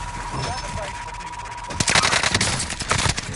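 Video game gunfire crackles in quick bursts near a tent, loud rapid shots overlapping with excited voices talking over the action.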